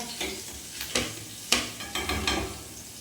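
Spices tempering in hot ghee with cumin, garlic and green chilies, a continuous close sizzle broken by several louder bursts and scrapes as the pan is stirred, no talking.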